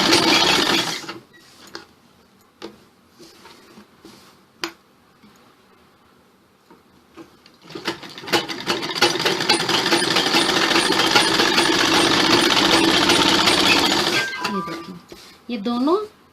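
A sewing machine stitches a frock in a sustained mechanical whir with rapid ticking, running for several seconds after scattered clicks and pauses, while someone talks.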